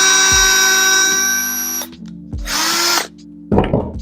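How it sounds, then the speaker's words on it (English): A handheld power drill boring a pilot hole in wood for a DIY meat processing table, heard in two separate loud whirring bursts with a clatter between them. "Drill my pilot hole."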